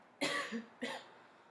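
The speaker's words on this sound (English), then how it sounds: "I noticed some coughing on the water" Two wet coughs after sipping water during a clinical swallowing assessment, one right after the other, close by with a short gap between them, followed by quiet.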